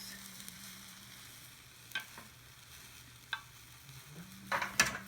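Tamagoyaki, a rolled Japanese egg omelette, cooks in a pan with a soft steady sizzle, broken by a few sharp scrapes and taps of a utensil against the pan, with louder clattering near the end.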